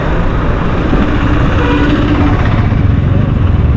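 Heavy road traffic on a route from Chennai to Ooty, with a vehicle approaching through steady, loud engine and tyre rumble that fills the whole stretch with no clear pauses.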